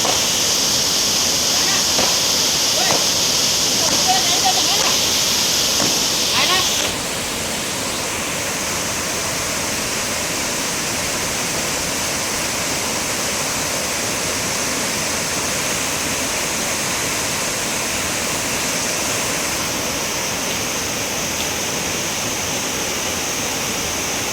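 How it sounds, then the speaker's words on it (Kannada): Kapila Tirtha waterfall pouring down during the monsoon near a riverside shrine, a loud, steady, close rush of falling water that never lets up and softens slightly after the first few seconds. "ಈ ಜಲಪಾತ ಬಹಳ ಸುಂದರವಾಗಿ ಹರಿತಾ ಇದೆ"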